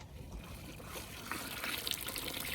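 Water trickles and splashes steadily into a bucket of chicken feed, growing a little louder and fuller toward the end, with faint low rumbling underneath.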